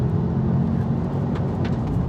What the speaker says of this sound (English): That's a real 5-cylinder noise.